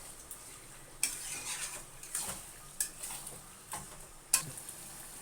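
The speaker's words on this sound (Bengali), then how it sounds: "ভালো করে মিশিয়ে দেবো।" Chicken curry stirred with sour yogurt in a pan, a spoon scraping and clicking against the pan in a handful of sharp, spaced strokes over a soft low sizzle, close and fairly quiet.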